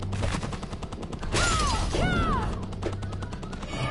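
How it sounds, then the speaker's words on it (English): Cannon mortar firing in a Castlevania-style video game: a burst of booming, crackling blasts with descending whistling shots over a busy game soundtrack, fairly loud and continuous. "Oh, because there's a cannon on top of it."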